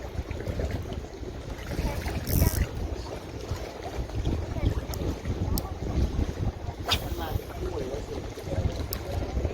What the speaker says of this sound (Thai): เพราะลมมันแรงลมปะทะหน้าเนี่ยลมแรงมาก